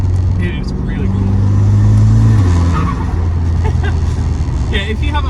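A 2008 Volkswagen Golf GTI Mk5 on the stock exhaust hums steadily from inside the cabin, with a low engine drone that rises and falls slightly as a person talks over it.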